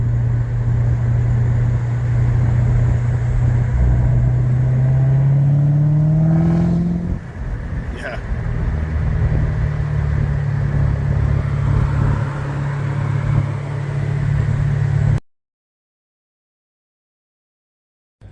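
A Corvette engine drones loudly and climbs in pitch, then drops sharply as it shifts into third gear with a quick throttle blip before settling into a steady cruise. Then it goes silent.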